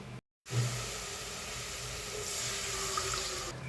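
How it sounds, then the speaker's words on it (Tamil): Water poured into a pan while making bread halwa syrup: after a brief silence, a steady, close stream of running liquid begins and continues evenly, with no talking over it. "நானூறு கிராம் சர்க்கரைக்கு இரநூறு எம்எல் தண்ணி இப்போ வந்து சேர்த்துடலாம்"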